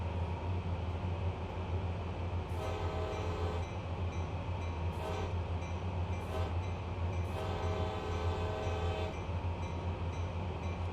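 CSX freight train in Train Sim World, a steady low rumble of rolling wagons with several long horn blasts sounding in sequence, loud and near, with no voices.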